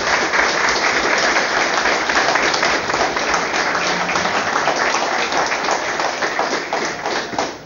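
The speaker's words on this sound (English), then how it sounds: "So give him a round of applause for those who are here today." Dense, sustained applause from a large audience at a book launch in Belfast, loud and steady throughout with no talking over it, easing only slightly at the very end.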